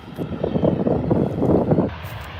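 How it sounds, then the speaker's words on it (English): A Virgin Australia Boeing 737 arriving from Hobart lands at Adelaide Airport, a loud broadband engine roar with wind buffeting across the microphone that holds steady, then drops off sharply near the end. "Virgin 737 from Hobart is landing now"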